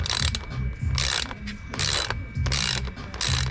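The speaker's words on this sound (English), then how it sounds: "I'm using the smallest ratchet for this, but that should be enough strength to pop it off" Small ratchet turning an 11mm socket to loosen the transmission drain plug on a 2014 Ford Escape with a 1.6L EcoBoost, making four or five close, rapid clicking bursts with short pauses between them.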